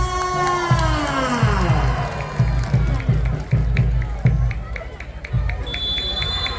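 Spectators at a volleyball grand final cheer and applaud for the player Rivan, a lively crowd roar with shouts, punctuated by loud rhythmic thumps and a sliding electronic tone over the hall noise.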